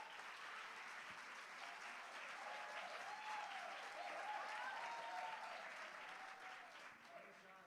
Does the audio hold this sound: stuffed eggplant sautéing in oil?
no